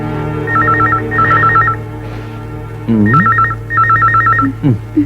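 A telephone in a bedroom rings in two bursts of quick warbling trills, pauses briefly, then rings twice more, loud and close with a low hum beneath.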